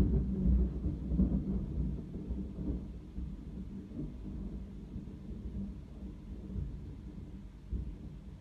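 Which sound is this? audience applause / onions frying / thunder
thunder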